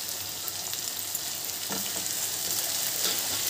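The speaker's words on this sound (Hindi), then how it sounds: "इसे हमें थोड़ी देर के लिए फ्राई कर लेना है।" Cut carrots fry in a pan for spicy chicken spaghetti, a continuous close sizzle with light stirring scrapes and a soft clatter near the middle, no voices.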